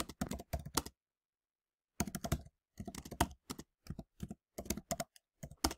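Someone types on a computer keyboard in several quick runs of crisp keystrokes, separated by a second of silence and a few shorter pauses, close and clear.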